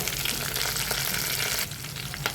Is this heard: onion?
yes